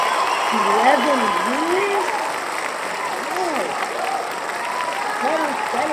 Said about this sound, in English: Let's do a clap for that